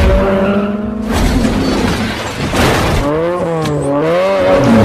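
A car skids off the road during a truck-and-car hijacking chase in The Fast and the Furious, with tyre-squeal bursts and wavering screeches sounding loud and close over film score and rumbling engine noise.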